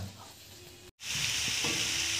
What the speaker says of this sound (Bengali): এরপরে ভাজা চলছে ঝুরি আলু ভাজা।